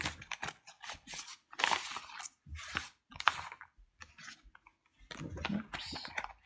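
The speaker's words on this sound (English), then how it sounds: "This is the first time I'm shuffling this deck, guys." A Neon Moon tarot card deck being shuffled by hand, close and fairly quiet, with bursts of crisp riffling and clicking card edges in irregular clusters separated by short pauses.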